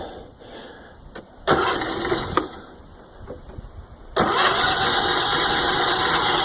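A 1908 Sears Motorbuggy, originally crank-started and now rigged with a starter, cranks with a sharp burst, falters briefly, then catches and settles into a loud, steady close-up running engine.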